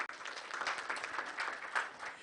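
An audience applauds a church-side commentator at a national summit on ending gender-based violence, the clapping steady, dense and fairly close for a couple of seconds.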